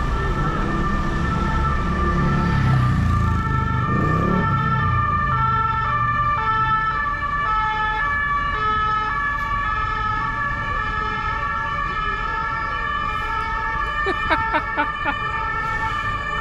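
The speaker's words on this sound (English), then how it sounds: "I finally got to record the sirens." Loud emergency sirens wail continuously on a city street in France, with traffic rumbling underneath and a second siren's tone layered in; a short rattling burst near the end.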